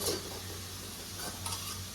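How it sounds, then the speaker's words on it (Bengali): Potatoes fry in a pan on a home kitchen stove while being stirred, giving a steady close sizzle with scraping and stirring noises throughout. "আমি এখন একটু আলু ভাজা করছি"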